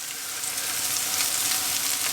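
Wild mushrooms cut flat and laid in a single layer in a hot pan, frying with a loud, continuous hiss and crackle up close, dense and unbroken throughout.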